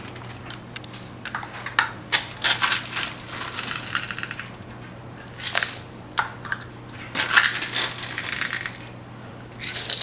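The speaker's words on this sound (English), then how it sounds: "So now we're going to add in our chocolate chips." Chocolate chips pour into a bowl of thick breakfast cookie dough and get stirred through it, making close rattling patter and crunchy, clicky scraping in irregular bursts over a low steady hum.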